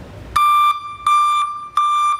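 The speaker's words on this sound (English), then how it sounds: "It is not gonna be an adjustable volume backup alarm." A Buyers Products self-grounding vehicle backup alarm gives three loud, evenly spaced electronic beeps, each a steady tone, heard alone close up.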